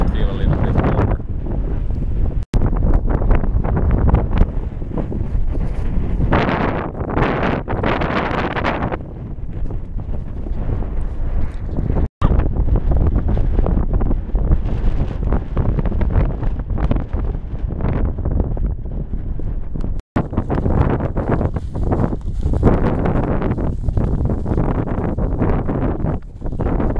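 Strong wind buffets the microphone on an open fell top in Urho Kekkonen National Park, Lapland, roaring loudly and steadily with gusty swells throughout and brief dropouts.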